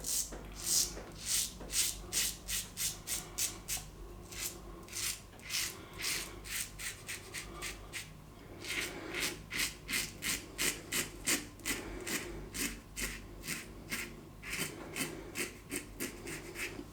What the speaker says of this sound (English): Let's go third pass against the growth with this Claymore Evolution.